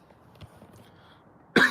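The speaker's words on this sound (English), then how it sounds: "Ironic how the cough has just suddenly decided to creep in again." A single sharp, close cough bursts out after a quiet stretch with faint low murmuring.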